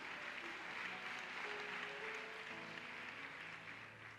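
A church congregation applauding and cheering for Jesus Christ during a worship service, a sustained wash of clapping with some voices and tones mixed in, steady then easing slightly toward the end.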